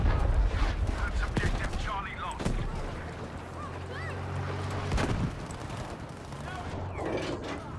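A grenade explodes in the Battlefield V conquest mode, a loud booming blast amid dense ongoing gunfire and battle noise, with a player's voice talking over the chaos.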